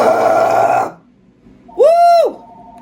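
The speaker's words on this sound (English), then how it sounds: "Oh, yeah, I got another burp. I feel it." A loud, close belch comes after drinking Sprite and lasts under a second. After a brief pause comes a short, tonal vocal whoop.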